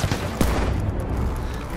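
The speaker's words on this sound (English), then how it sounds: "he's using a shotgun." Shotgun fire in the World War I shooter Battlefield 1 comes as a brief burst of loud blasts amid dense, noisy battlefield din, with no talk over it.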